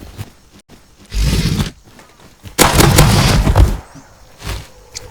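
Gunfire in the survival video game Rust, with semi-automatic pistol shots coming in two loud, dense bursts followed by a shorter late burst over quieter background noise.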